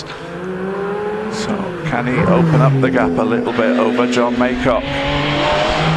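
A Mazda MX-5 race car climbs the Prescott hillclimb, its engine droning steadily then rising as it revs harder and passes close, loud throughout, with a commentator speaking over the sound.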